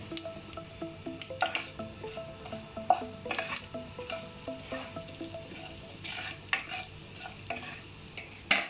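Crushed mustard and fenugreek sizzle in hot oil for green apple pickle, with soft crackles and pops and intermittent stirring scrapes, fairly quiet and close.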